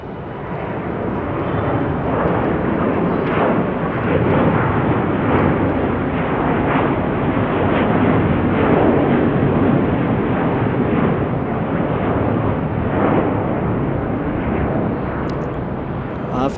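A jet airliner roars steadily as it departs Salt Lake City airport, a loud, sustained broadband rumble that holds strong throughout with no pause.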